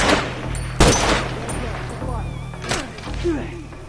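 Shotgun blasts and scattered gunfire crack through a multiplayer match of The Last of Us, with busy game effects and a raised voice shouting over the action.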